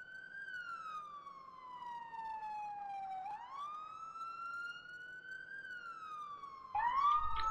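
Police sirens wail in a video game roleplay chase, a continuous rising and falling electronic siren sweeping back and forth, close and loud, with a second sharper siren tone joining near the end.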